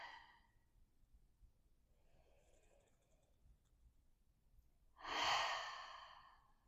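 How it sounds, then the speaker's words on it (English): A soft, faint breath drawn in during seated airplane yoga, with a quiet airy inhale in the middle and a louder, longer breath near the end, alone in a hushed room. "take a deep breath in"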